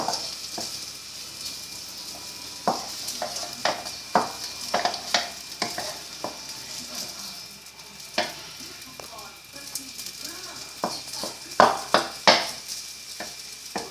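Rice with sausage being stir-fried in a pan: a constant sizzle with repeated sharp scrapes and clacks of a utensil against the pan in an irregular rhythm, close and fairly loud, with no talking.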